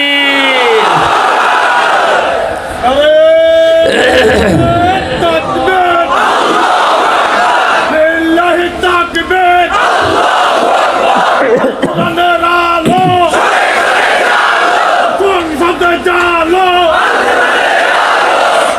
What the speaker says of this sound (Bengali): জবান খুলে একটা স্লোগান দেন, লিল্লাহে তাকবীর।